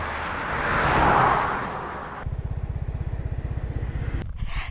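A motorcycle ridden out of the town of Pakxong in southern Laos, with wind rush at first, then a close, steady rapid putter of the engine for the last couple of seconds.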